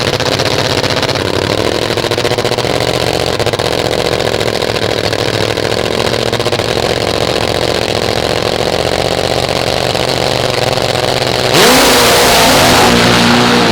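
Supercharged nitro-burning drag racing motorcycle at an AMA Prostar drag bike championship, a loud sustained engine roar that holds steady, then surges harsher and brighter near the end.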